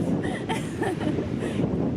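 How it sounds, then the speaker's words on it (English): Steady low rumble of wind buffeting the microphone in the Welsh countryside, continuous and fairly loud throughout, with no voices. "It's windy over this side."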